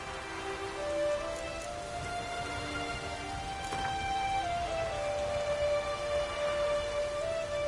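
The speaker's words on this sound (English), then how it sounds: "Raining again." Steady rainfall patters on surfaces in The Witcher 3, a continuous soft hiss of drops beneath faint sustained musical tones, moderately quiet and unbroken, with no talk.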